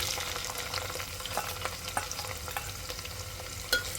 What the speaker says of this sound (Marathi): त्यामध्ये हे स्लाईस केलेले कांदे मी घालते आहे